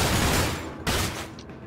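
Loud, dense gunfire from the stealth horror game Manhunt 2, a continuous rattling burst that breaks off briefly and resumes, with no voices.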